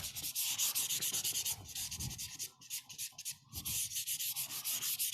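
Rhythmic back-and-forth sanding strokes on wood, close and crisp, with a couple of brief pauses between passes.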